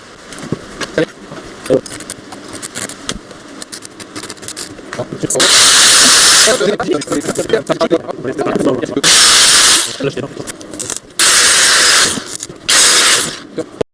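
Stick arc welding with a 2.5 mm electrode fills holes in metal, loud close crackling hiss bursts lasting a few seconds each, repeated several times with short pauses and some speech between them.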